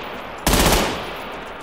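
A short, loud burst of rapid gunfire in a brutal video game, one sharp rattling volley about half a second long that fades out quickly, heard alone with no voices.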